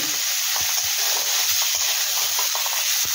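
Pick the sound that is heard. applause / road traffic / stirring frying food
stirring frying food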